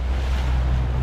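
A speedboat running over deep, dark water with waves, giving a steady low motor rumble mixed with water rush and wind buffeting the microphone, loud and continuous with no talking.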